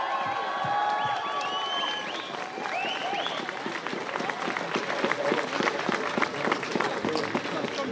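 Outdoor crowd at a large Salzburg demonstration applauds the police, dense clapping joined by cheers, whistles and whoops, growing louder and more rhythmic toward the end.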